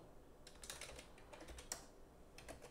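Quiet fingers tap a computer keyboard in quick irregular clusters of keystrokes, close up but faint, with no voices.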